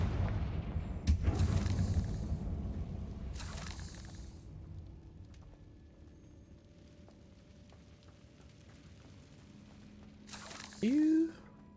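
Confringo fire spell blasts in Hogwarts Legacy, heard as a few quiet, short bursts spaced several seconds apart, with a brief whooshing flare near the end.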